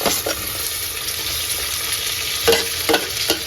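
Chopped tomatoes tipped into a hot oiled pan for chicken biryani, a loud close sizzle and frying hiss with a few stirring scrapes toward the end, no voices.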